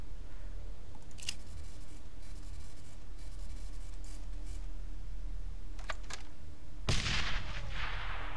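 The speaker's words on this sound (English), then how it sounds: "Let's use a pipe bomb on this one." A pipe bomb detonates in the post-apocalyptic role-playing game Wasteland 2: a single sharp, loud blast late in the moment that trails off into a hissing rumble, preceded by a few faint clicks over steady low background noise.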